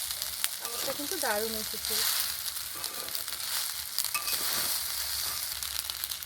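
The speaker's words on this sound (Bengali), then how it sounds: "এখানে মশলার সঙ্গে পাস্তাগুলো আমি নেড়ে চেড়ে খুব সুন্দরভাবে মিশিয়ে নিয়েছি" Pasta mixed with spices sizzles and scrapes in a frying pan as it is stirred, a steady frying hiss with soft stirring noises while someone talks over it.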